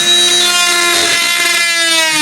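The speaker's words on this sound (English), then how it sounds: "what I've been using is my Harbor Freight oscillating saw, fantastic saw, and a blade that I got from there" A Harbor Freight oscillating saw with a Harbor Freight blade cutting into RV flooring gives a loud, close, steady high buzzing whine throughout, with a slight dip in the middle.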